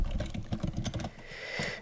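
Quick bursts of keystrokes on a computer keyboard as a name is typed, a rapid clicking run that stops, then a faint final tap, close and clear with no speech.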